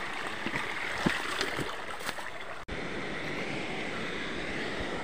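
A stream flowing by a cave entrance near a waterfall, a steady broadband rush of water holding at an even level throughout, with a few brief knocks early on and a short break in the middle.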